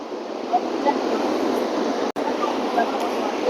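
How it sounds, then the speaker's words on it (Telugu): Duduma waterfall in the hills of Odisha, with water rushing down through rocky slopes. It makes a steady, loud, broadband roar that continues throughout with one brief dropout. "భలే ఉంది కదా వాటర్ ఫాల్."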